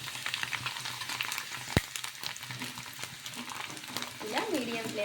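Food pieces frying in hot oil over a medium flame in a home kitchen give a steady, close sizzle and bubbling, with one sharp metallic clink of a utensil partway through.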